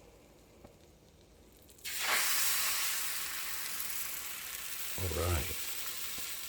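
Crepe batter hits butter in a hot pan with a sudden loud, steady sizzle that holds for several seconds, preceded by quieter background and with a brief spoken word near the start.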